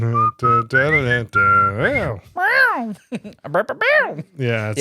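Melodic whistling of the Ed, Edd n Eddy cartoon theme song, close and fairly loud, with sliding pitches and short breaks between phrases.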